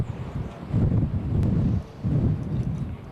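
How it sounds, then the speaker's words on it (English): Gusty wind buffets the microphone at Corbin Field during a high school baseball game, a low rumbling roar swelling in two long surges with a brief lull between, no voices present. "the wind kicks up again here at Corbin Field"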